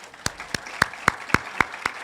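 Steady, evenly spaced claps ring out at a ribbon cutting ceremony for the new St. John's Encampment Commons and UFCU Pavilion at ACC Highland, about eight crisp beats in a regular rhythm.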